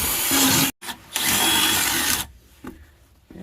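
Power drill boring out a mounting hole for a Rytan manual punch key-cutting machine on a Milwaukee Packout tool box, a loud whirring burst with a brief stop, then a second run before tapering to quiet.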